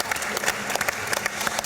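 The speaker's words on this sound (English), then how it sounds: "Round of applause for that person." Audience applause at a live talk event on concept cars, a steady dense patter of clapping from a seated crowd lasting a couple of seconds, fairly close and even in level.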